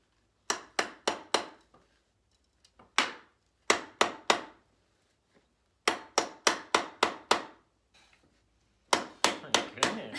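Wooden chair parts for an eighth-grade chair assembly being tapped together, sharp close knocks in quick bursts of three to five with short pauses between groups, loud and alone.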